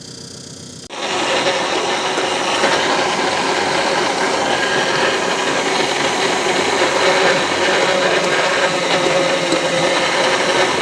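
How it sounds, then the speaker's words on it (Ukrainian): An electric meat grinder starts abruptly and then runs at a steady, loud whirring drone for the rest of the recording, as it grinds tomatoes. "І буду пропускати через м'ясорубку молоти."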